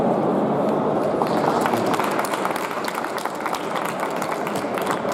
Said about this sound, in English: Once again, please give them a warm applause.